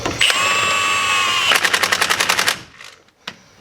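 Milwaukee M18 high-torque impact wrench (2767) hammering on automotive lug nuts, a loud steady burst followed by a rapid series of sharp rattling impacts, then a brief quieter tap after it stops.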